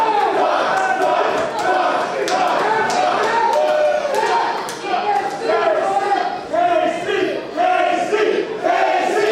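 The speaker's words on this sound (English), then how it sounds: "this crowd rallying behind KC Navarro in his quest to become the live champion" Wrestling fans in an arena chant in unison, rallying behind KC Navarro during a Live! Championship match, a loud rhythmic crowd roar of repeated voiced calls that rises and falls steadily throughout.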